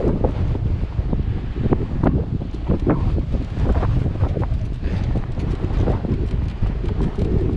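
Strong southerly headwind roars across the microphone on a coastal track on Tasmania's west coast, a steady, loud, gusty rumble that fills the whole stretch.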